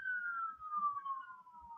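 A police siren wails at a distance during street protests in Philadelphia, its steady tone drifting slowly downward and fairly faint, with light low rumbling beneath.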